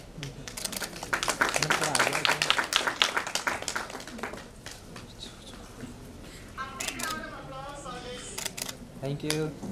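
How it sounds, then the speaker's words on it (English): Seminar audience applauding in a hall, with a burst of dense clapping over the first few seconds that thins into scattered claps, mixed with a speaker's voice and camera-like clicks. "A big round of applause for this team and their effort."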